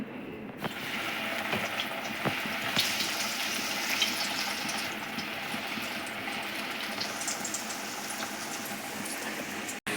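Vazhaipoo (banana flower) vadai patties fry in hot oil with a steady, dense bubbling hiss that runs unbroken and fairly loud, with no talking.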